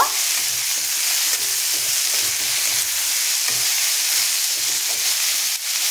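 Potato and onion frying in oil in a pan, a loud, continuous bright sizzle that holds steady throughout with no talking.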